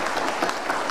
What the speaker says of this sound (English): Big round of applause for them as well.